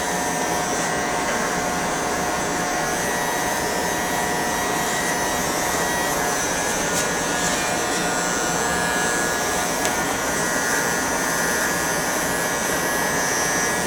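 Electric hair clippers buzz in a continuous loud drone while shaving a bald fade military cut close at the sides, an unbroken steady hum with no talking.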